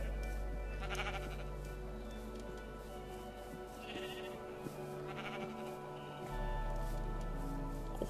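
Sheep bleat repeatedly in the Minecraft video game, several wavering calls layered over a steady droning game background.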